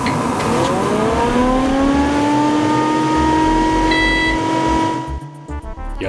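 Loud cooling fan in an Osborne Executive computer whirs with a steady, annoying tonal whine over a broadband rush, running continuously for about five seconds before dropping into quieter rattling at the end.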